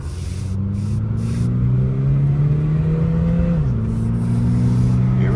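An engine rises steadily in pitch during a full-throttle pull, then drops sharply as the car shifts gear and climbs again, loud and close with a constant drone.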